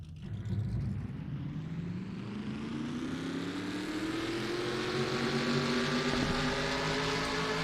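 A field of race car engines fires up together in a stock-car racing game at Oswego, a massed droning roar whose pitch slowly climbs and swells as the revs build.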